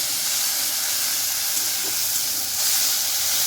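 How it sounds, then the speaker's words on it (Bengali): Whipped sour yogurt hits hot spices in a pan, giving a loud steady steam-like hiss and sizzle that holds throughout, with no voices. "এবার আমি দিয়ে দিচ্ছি ফেটানো টক দই"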